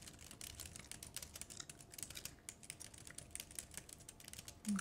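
Soft, quick typing on a computer keyboard at a winter lodge check-in desk: a steady patter of light, close key clicks running throughout, quiet and intimate, with no voices.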